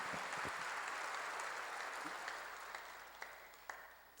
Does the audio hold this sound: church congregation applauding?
yes